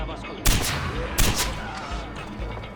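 Cannons fire and explosions go off in the video game Far Cry 4, with two sharp booming blasts about a second apart, each trailing into rumbling echoes over a busy, noisy battle backdrop.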